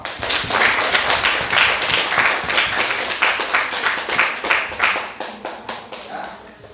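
A classroom of students claps together in a quick burst of rhythmic hand claps, fairly close and loud, tapering off toward the end.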